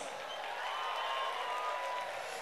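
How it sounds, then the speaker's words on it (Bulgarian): Applause from a television concert audience at the end of a show, a steady wash of clapping heard faint and distant throughout. "Моля за вашите бурни аплодисменти"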